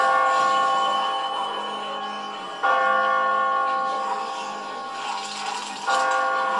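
A church bell tolls in The Walking Dead game, three loud ringing strikes spaced a few seconds apart, each leaving a long shimmering decay that fades before the next, with no voices.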